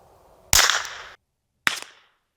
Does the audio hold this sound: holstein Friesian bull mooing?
no